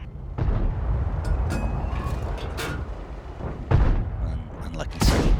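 Tank guns firing in a World of Tanks clan battle on the Westfield map, with several loud booming shots and rumbling battle noise through the clip.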